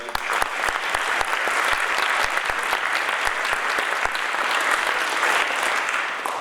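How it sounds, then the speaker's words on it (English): Audience applause at a community appreciation night, a dense, steady wash of many hands clapping that holds at full strength throughout with no voices over it. "So I just want to give a round of applause to everybody."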